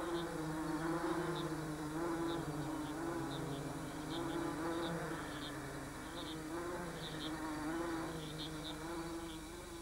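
Wasps buzz and whine in short repeated bursts against a troop of army ants, the insect drone fairly quiet over a low, continuous background hum, with no voices.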